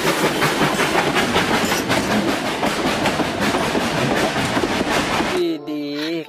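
A toy train runs along its track with a steady rattling clatter, loud and close, before it stops abruptly near the end, when a voice speaks over quieter background.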